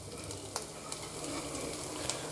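Ginger and green chillies sauté lightly in a pan for a veg hara bhara kebab, making a steady soft sizzle with a few brief clicks of stirring close by and no voices.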